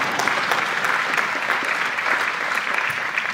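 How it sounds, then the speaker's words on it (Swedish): Sustained applause from a concert audience at Tele2 Arena in Stockholm, a dense steady wash of many hands clapping at even loudness throughout, with no voices above it. "En applåd för den!"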